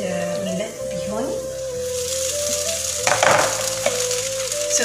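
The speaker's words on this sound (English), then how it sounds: "So now I'm gonna add the millet bihun." Millet rice vermicelli hits a hot pan and crackles into a steady sizzle, with a few clinks of utensils and a brighter burst of frying partway through, over a faint background tone.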